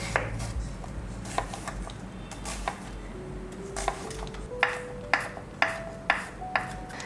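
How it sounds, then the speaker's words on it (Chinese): A knife chops onion on a cutting board in a run of sharp, evenly spaced strokes that grow louder and more distinct toward the end, with no talking. "切一些洋葱碎"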